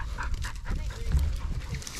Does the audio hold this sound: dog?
yes